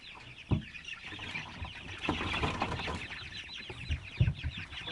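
Young chickens, just moved from a brooder into an outdoor chicken cage, cluck and chirp in scattered bursts close by, with a few louder calls and brief rustling amid steady outdoor background noise.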